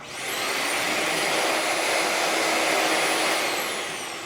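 A loud Shark Navigator Swivel Plus upright vacuum cleaner motor whirs steadily as a broad, roaring hiss with a whining high tone, ramping up at the start and easing off at the end.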